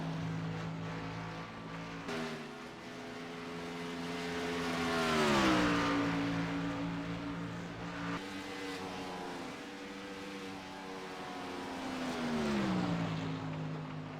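Race cars drive around the track during a race, engines droning from a distance and swelling twice as cars pass by, with no talk.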